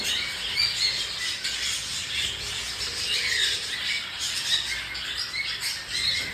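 Pet cockatiels, including saddleback and heavy pied birds, squawk and chirp continuously in a busy, shrill indoor chorus close to the listener.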